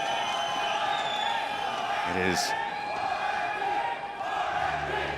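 A large arena crowd at a PUBG Mobile Global Championship grand final cheers and roars steadily in the background while a commentator speaks over it, with a brief louder whoop in the middle.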